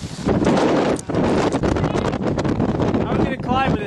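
Strong gusts buffet the microphone on an exposed climbing crag, a loud rumbling roar that dips briefly near the start and otherwise batters on continuously.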